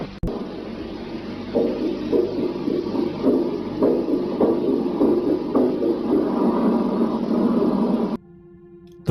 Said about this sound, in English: a dying man's heartbeat